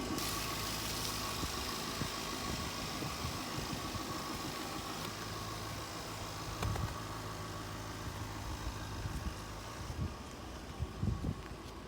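A Jaguar F-Type R engine idles with a low, steady rumble and faint vibration, running evenly at moderate volume with a slight wind hiss and a few soft knocks near the end.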